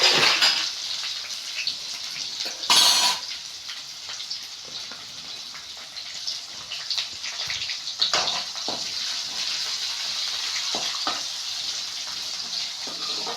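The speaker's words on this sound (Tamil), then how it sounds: "இப்போ கட் பண்ணி வச்சிருக்க வெங்காயத்தை போட்டுக்கலாம்" Chopped onions going into hot oil with roasted chana dal for cabbage poriyal, a loud sizzling hiss that swells as they drop in, then steady frying crackle with scraping stirs.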